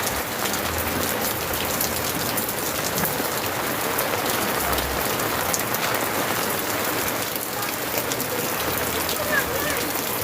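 Heavy rain pours steadily and densely, close and loud, at an outdoor vending spot, with an even rushing patter that holds throughout.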